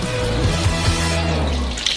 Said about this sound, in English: Pour in 300 milliliters of oil